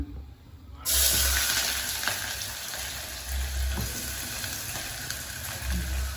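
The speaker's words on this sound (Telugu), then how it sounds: "నూనె వేడైంది. ఈ ఉల్లిగడ్డలు వేస్తున్నా." Chopped onions hit hot oil in a pot for a Telangana mutton curry, setting off a sudden loud, bright sizzle that holds steady with faint stirring knocks, no talking.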